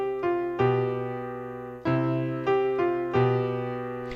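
Piano chords play a short counterpoint example using a lower neighbor tone embellishment, a handful of struck sonorities that ring and decay one after another, clear and unaccompanied by speech.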